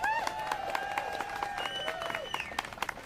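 Applause from a rally crowd at a union canvass launch, steady clapping spread across the room while a voice carries over the top throughout.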